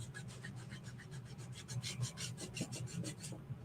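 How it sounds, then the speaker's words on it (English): Burnishing tool rubbed firmly over a silk screen chalk transfer laid on a faux pallet wood sign, giving a steady close rasping scrape in repeated short strokes, alone with no talk. "So I'm just going to burnish down where there are silk screen areas."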